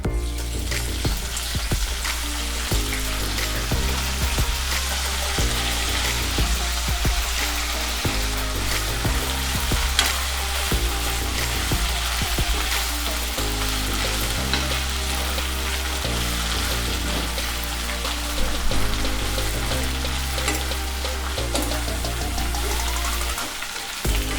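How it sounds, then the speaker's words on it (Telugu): Fresh mint leaves fry in hot oil in a pan while making Telugu pudina pachadi chutney, a close, constant hissing sizzle that runs throughout over steady background music. "ఇంకా కొద్దిగా నూనె వేసుకొని ఈ పుదీనాను కూడా వేయించేసుకుందాం."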